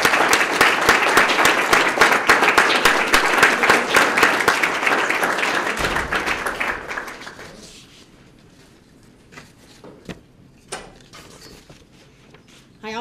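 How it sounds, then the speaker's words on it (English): Loud, dense applause from the audience at a police swearing-in ceremony fills the first seven seconds, then fades to scattered claps, small knocks and room noise. "Let's give them a round of applause."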